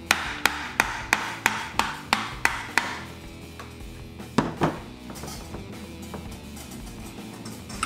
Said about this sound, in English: I'm just gonna use this brass hammer to hit this case to get it to come off.